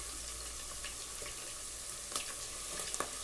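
Ginger garlic paste hits hot oil in a pan, giving a steady, even sizzle, with a couple of small clicks near the end.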